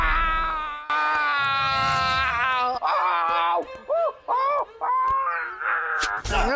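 A man screams loudly in a TV comedy scene, long wailing cries that rise and fall in pitch, breaking into shorter yelps and moans, nearly continuous for several seconds.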